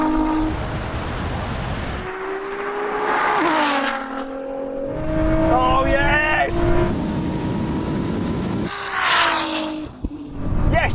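A Ferrari SF90 and a 1000hp Nissan GT-R in a drag race, engines roaring and rising through gear changes under excited talk and shouting.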